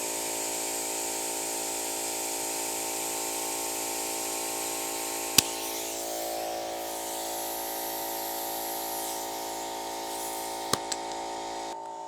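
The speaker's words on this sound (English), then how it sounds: "get your compressed air line over here. All right, put some air in it." A compressed air line steadily hisses and hums while inflating the inner tube of an enduro motorcycle tyre, continuous and close, with two sharp clicks partway through and near the end.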